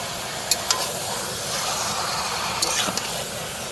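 Hariyali chicken frying in oil and being stirred, a steady loud sizzling hiss broken by a few sharp scraping clicks from the spoon.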